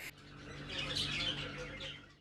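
An endangered long-eared owl, found on vacant land, gives a single harsh, squawking call lasting about two seconds, close and fairly quiet, with steady low hum beneath.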